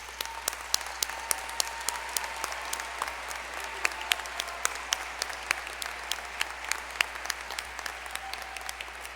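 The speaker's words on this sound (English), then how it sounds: "I also ask that the faculty and staff please stand so that we can all give you a big round of applause." A graduation audience at Farmington High School applauds faculty and staff, a steady, moderately distant wash of clapping with sharp individual claps standing out, sustained throughout without speech.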